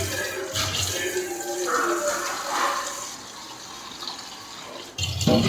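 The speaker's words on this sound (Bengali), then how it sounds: "জল নিলাম" Water runs from a kitchen tap in a continuous splashing stream, fairly close, with a brief clunk near the end; there is no speech.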